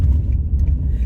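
A bus approaching on a road, heard as a loud, low rumbling engine drone that holds steady and close for a second, with no talk over it.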